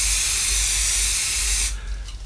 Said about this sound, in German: wir sprühen einfach mal eine kleine Fläche ein